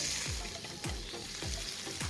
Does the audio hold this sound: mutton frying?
yes